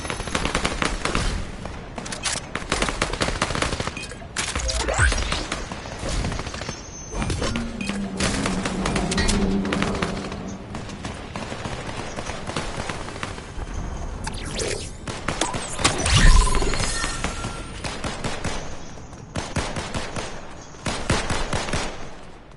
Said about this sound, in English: Shooting at you, so I hear a lot of gunshots.